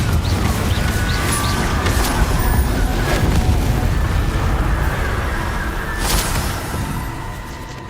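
A Confringo blasting spell explodes in Hogwarts Legacy with loud crashing bursts, over steady game background noise that fades slightly toward the end.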